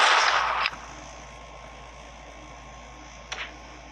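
Gunfire in the Chicken Gun video game: a burst of noise ending in one sharp crack, then near silence before a second sharp shot about three seconds later.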